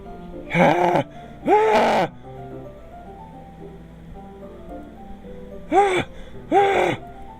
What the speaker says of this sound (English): It sounds like breathing. A sharp inhale, like someone is sucking